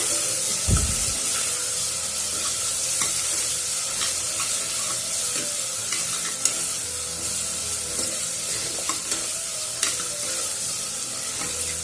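Vegetables frying in oil for millet sambar, a continuous soft sizzle with occasional light clicks and scrapes of stirring, close and even, with no talking.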